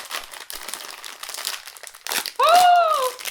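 A plastic packet crinkles and rustles up close, with a sharp burst of crackling near the end amid faint background voices.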